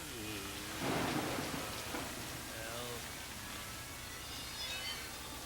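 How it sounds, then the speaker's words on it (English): A big thunderstorm with steady rain pattering on surfaces and a low thunder rumble swelling near the start, faint and distant overall, with a faint voice heard at times. "I gradually fell into a sleep during a big thunderstorm."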